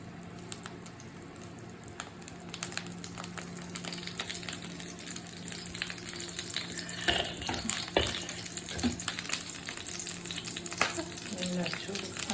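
Curry leaves crackle and fry in coconut oil with a quiet, continuous sizzle and scattered pops, and a few louder spatters come near the middle.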